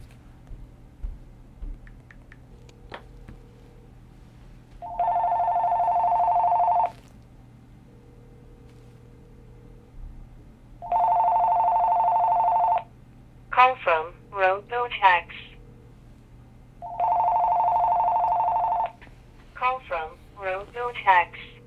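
An AT&T DECT 6.0 cordless phone rings in steady two-second electronic bursts, three rings spaced evenly, with a synthetic voice announcing the caller between the later rings; a quiet room tone underlies it.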